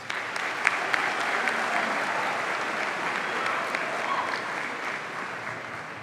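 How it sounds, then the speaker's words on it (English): A crowd at a high school graduation ceremony claps steadily, sustained applause from many hands filling the room at an even level throughout. "can we please give a round of applause to Mr. Kling for stepping in for McGrath"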